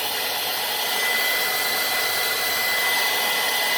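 A heat gun blows a steady, loud stream of hot air onto a cracked PCV elbow on a Chevy 5.3 intake manifold, a continuous broadband whoosh with a faint whine and no pauses.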